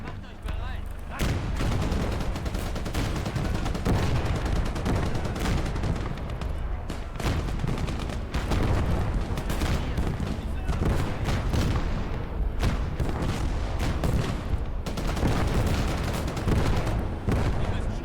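Dense battlefield gunfire fills the Call to Arms Gates of Hell: Ostfront game, with loud, continuous rifle and machine-gun bursts and heavy booms throughout, and voices shouting now and then under the barrage.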